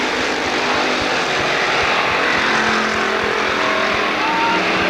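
Stock cars roar around a short oval at a NASCAR weekly series race at Lorain County Speedway, a steady, dense engine drone with a race announcer talking over it throughout.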